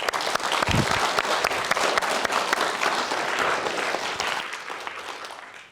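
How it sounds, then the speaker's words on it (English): A public speaking competition audience gives a warm, dense round of applause for a student speaker from Cheadle Academy. The clapping is sustained and loud throughout and tapers off at the end. "I now ask you to join me in a warm round of applause for our main speaker from Cheadle Academy"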